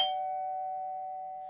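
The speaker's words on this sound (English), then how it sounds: "the doorbell rings" In an interactive horror game, a single electronic doorbell chime strikes and rings out as a clear sustained tone, slowly decaying, alone in silence.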